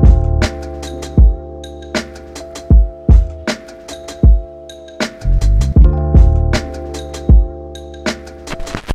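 Chopped-sample beat with punchy kicks and snares under sustained layered chord stabs, the chop moved onto the third chord hit, playing in a steady loud rhythm with no talking.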